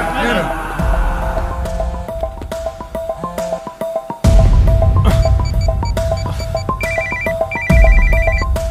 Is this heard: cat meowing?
no